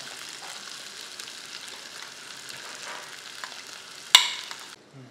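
Vegetables sauté with ground green masala in a pan for plain masale bhaat, a steady close sizzle throughout, broken near the end by a sharp clatter of a stirring spoon before the frying fades.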